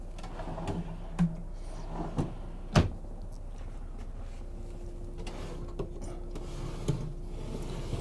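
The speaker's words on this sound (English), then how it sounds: "And there's a nice series of drawers here too. Full extension drawers." Full-extension kitchen drawers in a 2016 Prevost X3-45 motorcoach are opened and shut, giving several separate thuds and clunks spread over a quiet, steady background.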